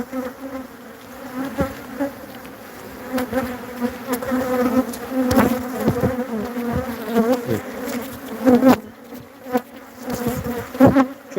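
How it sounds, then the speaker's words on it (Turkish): Dense, steady buzzing of many honeybees at an open hive, close by, a continuous drone with individual wingbeats swelling and fading throughout. "Arı yoğunluğu iyi."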